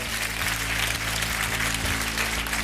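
Sustained clapping from a studio audience on a French TV singing game show, an even, dense burst of many hands filling the room.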